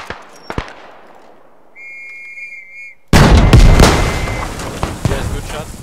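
Gunfire in the trench-warfare shooter Beyond The Wire: a few sharp distant shots and a faint whistle, then a sudden loud, dense barrage of rapid automatic fire and booms that continues to the end.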